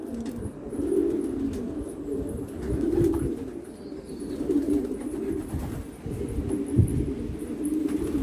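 Pigeons coo continuously nearby in soft, low, rolling phrases that rise and fall throughout, with faint chirps from smaller birds and no talk.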